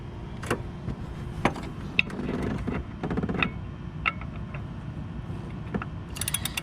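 A ratchet levers down on an engine's belt tensioner, making scattered faint metallic clicks and clunks against a low mechanical rumble.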